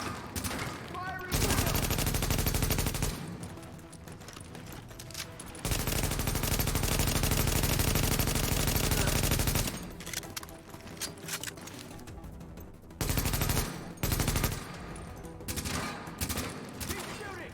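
Sustained automatic gunfire from a video game rattles in long, loud bursts separated by brief lulls, with scattered single shots and a voice speaking between volleys.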